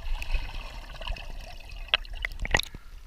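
Water splashing and trickling as someone goes under in an outdoor swim, with a few sharper splashes near the end over a low background.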